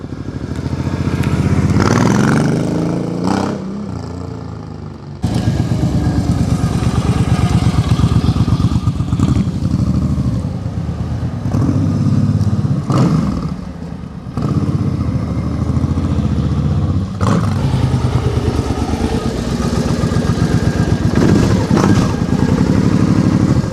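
A 2005 Suzuki C50 Boulevard cruiser motorcycle engine, with unmodified intake and exhaust, runs loud and close, rising and falling through repeated revs with a deep, rumbling exhaust note.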